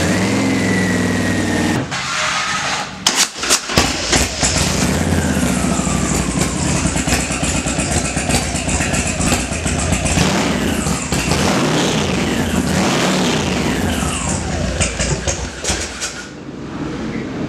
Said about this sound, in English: so to start the bike then, ignition on.